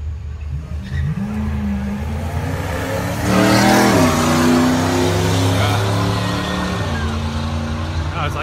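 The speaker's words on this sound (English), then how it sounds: "That was the loudest race so far" Drag race car engine at a raceway, roaring loudly with rising pitch as it accelerates down the strip, swelling to a peak mid-pass, with crowd chatter underneath.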